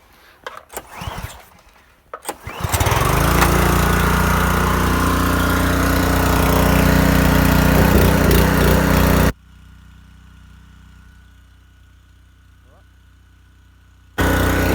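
A 4-stroke petrol engine on a $299 Aldi pressure washer is pull-started after a few rattling tugs, then roars into a steady, loud, close run, drops to a quieter idle for several seconds, and surges loud again at the end.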